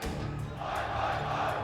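Esports crowd at a CS:GO match at IEM Sydney chanting Oi Oi Oi for Australian team Renegades, a dense, steady roar of many voices filling the hall without pause.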